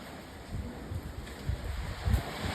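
Strong gusts of wind during typhoon flooding in Lucena City roar and buffet the microphone in uneven low surges, with no distinct sound of the trash bin being carried off.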